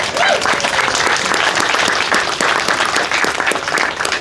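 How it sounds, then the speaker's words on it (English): A crowd gathered for a ribbon-cutting at the opening of Celebrate Park in St. James bursts into loud, close applause, thick continuous clapping sustained for several seconds with faint cheering mixed in. "give yourself a round of applause for what we've done here."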